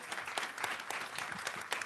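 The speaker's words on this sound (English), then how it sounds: "let's give these young ladies one more round of applause" An audience applauds young women at a leadership event, a fairly faint, continuous patter of many hands clapping without pause.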